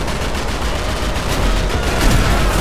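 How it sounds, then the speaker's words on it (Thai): Dense, continuous gunfire from a GTA V mod game, a loud, steady rattle of rapid shots that thickens slightly toward the end, with no voices over it. "ยิงมาจากตรงนู้นครับ"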